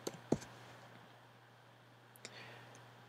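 Mouse clicks on a website button during a software demo, a few faint isolated clicks spaced apart over a quiet background hum.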